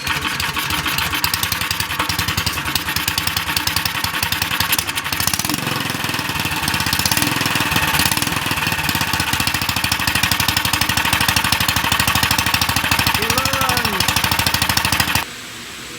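Small single-cylinder cyclekart engine for a Stutz Bearcat replica running on its initial break-in after choking, a loud continuous clattering putter held steady throughout, no talk over it.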